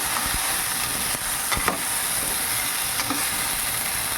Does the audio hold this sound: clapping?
no